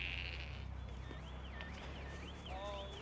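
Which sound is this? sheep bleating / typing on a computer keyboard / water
sheep bleating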